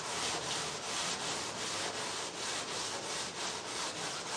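Close, rhythmic hand block sanding of car bodywork, abrasive rasping strokes repeating evenly for several seconds with no voices.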